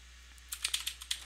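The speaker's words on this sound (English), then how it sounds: "So we can type in something, hit enter" Typing on a computer keyboard, about six crisp, close key clicks in a quick run ending with a press of the enter key, with no speech.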